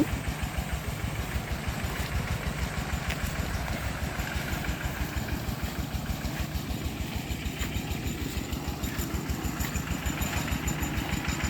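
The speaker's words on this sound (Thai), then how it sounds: "ต้องเอาเครื่อง สูบน้ำนะคะมาสูบน้ำจากคลองค่ะ" An engine-driven water pump draws water from a canal beside a rice field, running as a steady, loud, close chugging drone with a fast, even pulse from start to finish.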